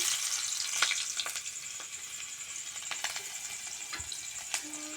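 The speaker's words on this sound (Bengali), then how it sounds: "পেঁয়াজ কুচিটা ভালো করে লাল লাল করে ভেজে নিব" Chopped onion sizzles steadily in mustard oil in a wok, a close, continuous crackling fry with faint stirring scrapes.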